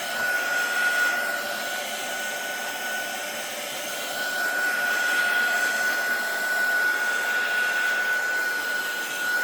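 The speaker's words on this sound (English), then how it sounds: "just try using your heat gun on the front, on the back, all that, and that'll help" A heat gun blows steadily on a watercolor journal page to dry and flatten the paper, giving a continuous loud airy whoosh with a faint high whine running through it and no speech.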